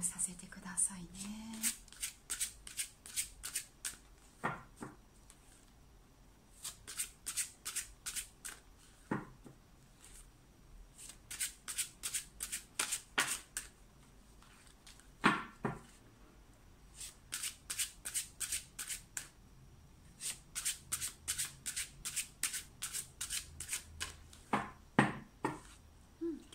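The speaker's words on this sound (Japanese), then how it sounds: "少しシャッフルさせてくださいね。" Tarot cards shuffled by hand during a love reading, in repeated bursts of rapid riffling clicks with short pauses between them, close and fairly quiet, with a few soft thumps and no talk.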